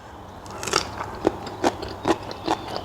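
Crisp bites and chewing of raw vegetables eaten with buro, fermented rice with fish, a loud crunch followed by four more spaced crunches, close to the mic, with no talking.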